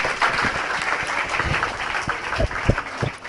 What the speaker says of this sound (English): we should all give her a loud round of applause, children, for being here with us today